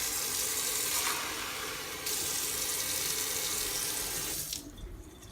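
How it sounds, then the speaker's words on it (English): Water pours steadily into a styrofoam cup from a tap, a continuous close splashing stream that shifts slightly in tone partway through, then cuts off near the end, leaving a faint quiet tail. "I'm just going to add some water to it."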